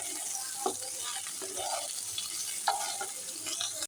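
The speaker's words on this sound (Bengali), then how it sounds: "আমি ভালোভাবে ভেজে নেবো।" Chopped onion frying in a pan for lentil dal, a faint steady sizzle with occasional spoon scrapes and stirring knocks.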